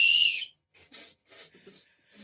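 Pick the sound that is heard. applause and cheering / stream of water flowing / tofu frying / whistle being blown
whistle being blown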